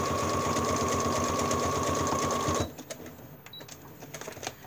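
A sewing machine stitching vinyl runs fast with a rapid, even mechanical rattle for about two and a half seconds, then stops abruptly, leaving faint handling noises and a few small clicks.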